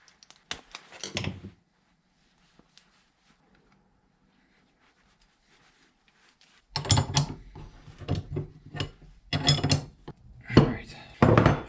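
Teflon-taped fittings being threaded into a 1/2 inch ball valve while installing a cab heater on a Kubota BX tractor: a brief close clatter of handled metal parts, a quiet pause, then several clinking, rattling bursts.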